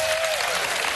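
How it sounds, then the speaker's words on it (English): Studio audience applause on a live daytime talk show, a dense, steady wash of clapping filling the whole moment at close range. "that was like mercy applause for real"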